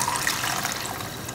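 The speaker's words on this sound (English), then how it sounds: "we're gonna cover everything with some water." Water pours in a steady, rushing stream into a pot over artichokes for a Greek-style stew, loud and close with no speech.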